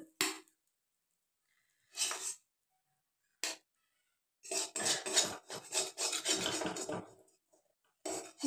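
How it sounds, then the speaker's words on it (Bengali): Scraping and scrubbing bursts on a kadai after cooking a filling, short rasping strokes at first, then a longer run of rapid rubbing passes, close and moderately loud with quiet gaps between. "ভালোভাবে কড়াইটা আমি পরিষ্কার করে নেব"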